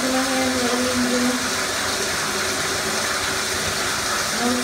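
Tap water running steadily while hands are washed in a shower, a loud continuous rushing stream with a faint hum underneath.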